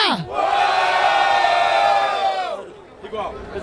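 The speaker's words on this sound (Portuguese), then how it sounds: "Barulho para as rimas do Mike" Loud crowd cheering and shouting at a Brazilian street rap battle semifinal in Barueri, a sustained roar of many voices that swells for over two seconds, then fades into scattered whoops and chatter.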